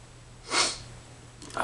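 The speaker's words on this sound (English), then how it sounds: "I'm sorry for all the sniffing," A single sharp nasal sniff, close and breathy, followed by a softer second intake of breath about a second later.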